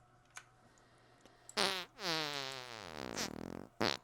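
Video game character farting: a couple of loud, close, drawn-out raspy toots with falling pitch, then a sputtering burst and a final short blast, alone over faint background.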